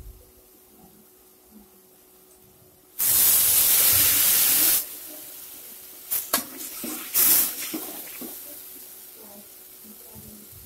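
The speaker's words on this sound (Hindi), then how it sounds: "इसमें हम थोड़ा सा पानी ऐड करेंगे ताकि मसाला जो है अच्छे से बन जाए" Water poured onto sizzling masala in a hot pan for a soya bean and dal dish, a sudden loud hissing burst that lasts about two seconds, followed by softer crackles and scattered spitting sizzles.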